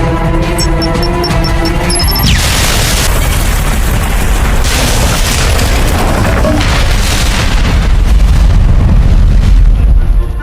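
A massive film explosion erupts after a brief electronic beeping, then a long loud rumbling roar with crackling debris that sustains for several seconds at close range.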